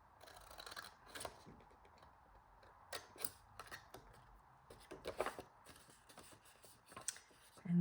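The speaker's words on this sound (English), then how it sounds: "I'm just going to angle cut it straight away there" Scissors angle-cut paper for a triple pocket envelope, producing sparse, crisp, close snips scattered through quiet room tone, ending in a brief soft thump.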